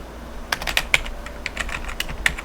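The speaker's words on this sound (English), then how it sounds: "So type in dumpbin" Computer keyboard typing in a series of quick, crisp key clicks at an irregular rhythm, close and fairly quiet, with no talking.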